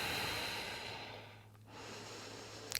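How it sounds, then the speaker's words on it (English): Slow, soft breathing during a yoga session, one faint drawn-out breath fading away, followed by a quick snort-like exhale at the end. "Breathe."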